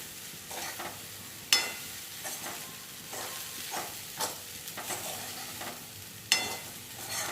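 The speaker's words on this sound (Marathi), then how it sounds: "आता याला छान पोह्यासारखं मिसळून घेते" Wet puffed rice (murmura) masala bhadang with amchur is stirred in a pan, giving quiet, periodic scraping and shuffling strokes with a faint sizzle and a few sharper clinks against the pan.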